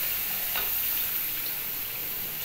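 Semolina frying in a pan gives a continuous bright sizzle with soft stirring scrapes, steady and close throughout.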